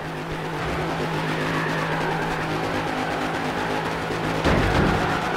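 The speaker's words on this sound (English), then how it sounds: "That's what we call drifting." A car drifts in Forza Horizon 3, its tires squealing in a long sustained howl over a steady engine drone, ending in a sharper burst of skid noise near the end.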